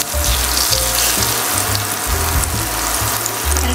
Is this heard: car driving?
no